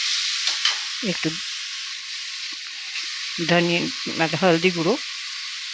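Chili, coriander and cumin powders fry in a pan for ghugni, giving a loud, steady sizzle throughout, with someone briefly speaking over it a few times.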